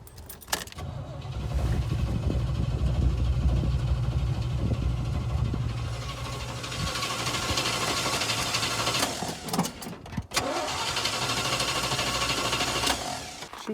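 A 1986 Chevy C20 squarebody truck engine cranks and catches, then runs with a steady, fairly loud rumble that dips briefly near the end.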